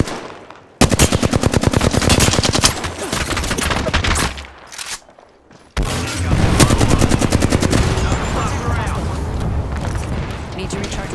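Sustained automatic weapon fire in the video game Apex Legends, long rapid bursts of loud close shots with a brief pause between them, under occasional in-game voice lines.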